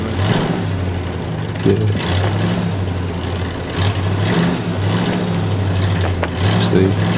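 A deep truck engine in the video game Human Fall Flat drones and revs in steady pulses, loud and close, with a brief spoken word over it.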